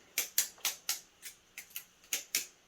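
An Atropos Kratos balisong butterfly knife flips through rollovers and twirls, its handles clacking in nine sharp, close metallic clicks spaced a fraction of a second apart, with no voice.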